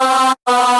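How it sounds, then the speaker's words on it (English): Choir sample in the second part of a future bass drop, heard as a loud sustained chord with rich harmonics, cut off briefly by a short gap before resuming. "In the second part of the drop, I basically used this choir,"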